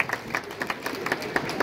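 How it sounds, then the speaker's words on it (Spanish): Scattered hand clapping from an audience welcoming a teacher, fairly quiet, with distinct individual claps spaced irregularly over a brief stretch. "Lo vamos a recibir con fuertes aplausos"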